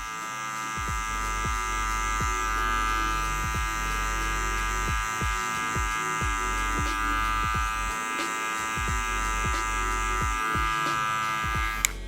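An electric hair clipper buzzes steadily while cutting a taper fade, its constant tonal hum broken by repeated short strokes and pauses as the blades pass through hair.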